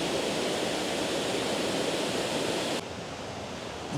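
A waterfall in Cusco's San Blas neighborhood rushes in a steady, loud broadband roar that holds constant, then drops slightly in level near the end.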